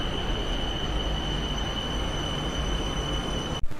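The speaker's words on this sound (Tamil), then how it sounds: "வந்துருச்சுங்க ட்ரெயின்." A Bangkok BTS skytrain pulling into the station, a steady loud rush and rumble of the carriages with a faint high whine from the wheels and a brief knock near the end, heard from the platform.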